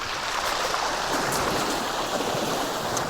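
Sea waves wash in at a beach as the tide comes in, a dense, steady rushing hiss of water that stays constant and fairly loud with no distinct breaks or voices.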